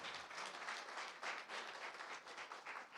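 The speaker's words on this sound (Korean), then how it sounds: "다시 한번 큰 박수 부탁드립니다" Hall audience at the Federation of Korea Information Industries' 40th anniversary ceremony gives a brief round of dense, even applause, heard faint and somewhat distant, with no talking.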